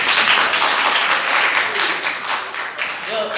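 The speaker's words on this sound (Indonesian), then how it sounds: "Tepuk tangan dulu." Audience applause in a classroom, a dense, steady patter of many hands clapping at close range that carries on throughout with only slight dips.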